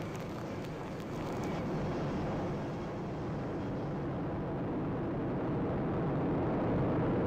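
An Atlas V-551 rocket climbs after launch, a broad, steady rumbling roar filling the air, heard from a distance and holding loud and constant throughout.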